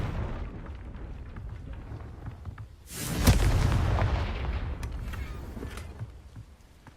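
A Confringo blasting spell going off in the Hogwarts Legacy video game, one loud booming explosion with a rumbling tail that fades over a few seconds above game ambience.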